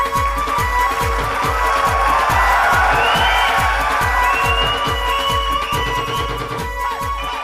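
An audience applauds to welcome the president of Unique Education System at a 21st anniversary celebration, a dense, steady wash of clapping that stays loud throughout, with a crowd murmur and a faint tonal hum underneath.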